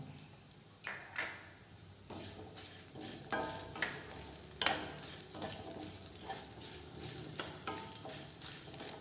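Ginger and garlic sauté in a pan for an egg and drumstick gravy. A quiet, continuous sizzle is broken by repeated scraping stir strokes, close but fairly soft.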